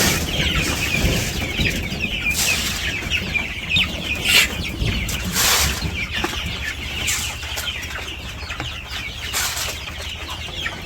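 Chickens cluck steadily and close by, several birds overlapping, with occasional louder squawks and a bit of wing flapping.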